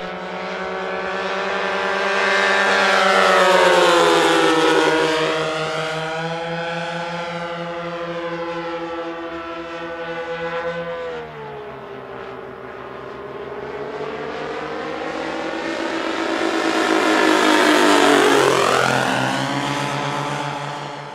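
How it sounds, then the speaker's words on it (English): A 1:8 scale balsa-and-ply Mosquito PR.XVI model aircraft with twin NGH-17 engines and fiberglass cowlings makes a loud, sustained flyby drone that swells and fades twice, its pitch bending as it passes close. "harmonising the NGH-17 engines, and I'm sure you'll agree it sounds fabulous as it thunders along"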